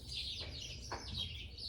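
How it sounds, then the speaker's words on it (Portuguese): Small birds chirp faintly in a garden of roses on a cloudy day, with a few short, distant tweets rising over quiet background ambience and no talking. "Olha só o barulho dos passarinhos."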